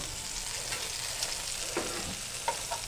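Pork loin browning in a sauté pan, with a soft continuous sizzle and a few light scrapes and clicks of a utensil, close but quiet and with no voices.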